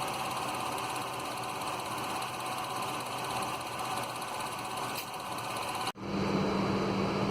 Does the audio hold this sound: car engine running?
yes